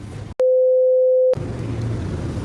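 A telephone line gives a single loud, steady electronic tone lasting about a second, cutting sharply in and out against a low background hiss, with no talking.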